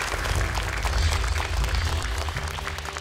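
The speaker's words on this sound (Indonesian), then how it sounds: "Boleh tepuk tangan sekali lagi untuk tim kedua ini" A group claps for the second team of children at a Hijri-month quiz event, a steady burst of close applause lasting a few seconds.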